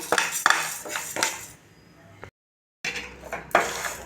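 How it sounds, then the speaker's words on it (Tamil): Ingredients for a homemade energy drink dry-roast in a pan, stirred with a utensil that scrapes and clinks against the metal in uneven bursts, briefly cutting to silence midway before the scraping resumes. "இதெல்லாம் கொஞ்சம் பொன்னிறமாக வர வரைக்கும் வறுத்து விட்டுக்குவோம்"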